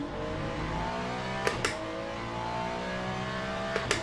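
Race car engine in a sim racing game, a continuous high engine note rising in pitch as it accelerates, with a few sharp clicks of gear shifts, loud and close with no talking.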